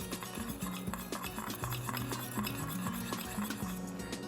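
Spoon stirring sugar, vinegar and salt together in a small bowl to make sushi rice seasoning, a continuous close scraping and clinking with soft rhythmic taps, no voices.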